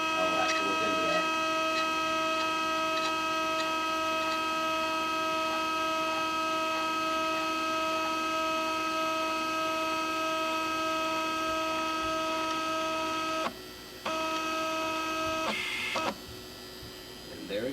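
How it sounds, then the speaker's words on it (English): Stepper motors for a CNC flatbed printer, run by a driver/chopper on a bench test, give a steady, loud multi-tone whine that holds unbroken for about 13 seconds before two brief cut-outs near the end. "That is the tests of a couple of my stepper motors, which will be soon installed into the flat printer."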